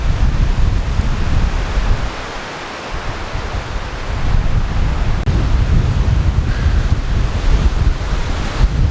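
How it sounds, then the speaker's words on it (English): Strong gusty wind in open Australian wilderness at a solo campsite, a loud continuous roar buffeting the microphone that dips briefly and then surges back. "I wish this wind would bugger off"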